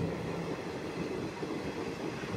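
The Narasapur to Nagarsol Super Fast Express rumbles along near Khammam in a steady, loud roar heard from inside a carriage, with continuous rolling noise and faint wheel clatter.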